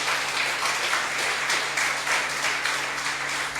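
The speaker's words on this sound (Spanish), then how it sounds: "Denle un aplauso al Señor." A church congregation at a Good Friday service applauds together: a continuous, fairly loud roar of mixed clapping that swells and eases slightly without any break.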